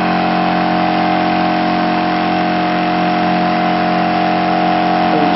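An 8-inch SSG pulse motor wheel spins at about 2600 RPM, giving a loud, steady, unbroken electrical hum with a droning buzz that holds constant throughout.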